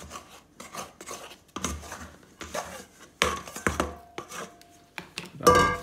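Bench scraper scraping bread dough out of a bowl, with repeated close rasping and scraping strokes against the bowl in an uneven rhythm, heard alone.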